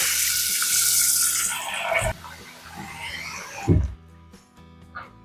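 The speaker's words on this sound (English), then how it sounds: "Then we put some water in it." Water runs steadily from a tap into a saucepan, a broad hissing rush for about two seconds, followed by softer clanks and handling sounds.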